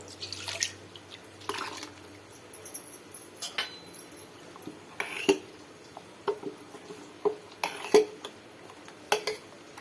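Smooth ground neer dosa batter is poured and scraped into a kitchen vessel, producing soft wet drips and sporadic light clinks of utensil against metal, close and fairly quiet with intermittent taps.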